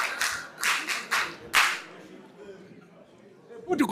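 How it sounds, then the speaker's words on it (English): A few sharp, separate hand claps ring out in a quiet hall during a political party retreat, four bursts in quick succession, then a pause before a final cluster. "Hey, you clap for me."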